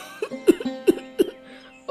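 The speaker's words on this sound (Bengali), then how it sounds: "একটু পরপরই কাশি হচ্ছে" A person with a worsening, frequent cough lets out four short, close coughs in quick succession, each a sharp throaty burst separated by brief pauses.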